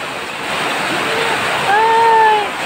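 Rainwater flooding down a street with blocked drains and carrying garbage along, a steady, loud rushing wash of water that swells slightly, with a brief voice-like tone rising over it near the end.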